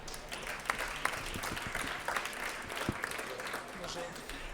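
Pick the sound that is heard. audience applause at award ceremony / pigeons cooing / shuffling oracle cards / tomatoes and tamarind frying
audience applause at award ceremony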